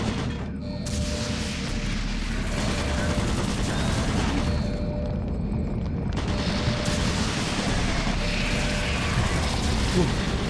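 Automated turret guns open up in Doom 3 BFG, loud dense bursts of continuous rapid fire with a spoken announcement over them.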